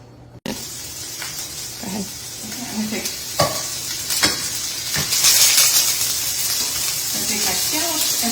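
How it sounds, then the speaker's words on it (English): Scallops sizzle and spit in hot olive oil in a pan, a steady loud frying hiss with scattered pops and bursts of crackle, close up and without talk. "Take my scallops and place them in the hot oil."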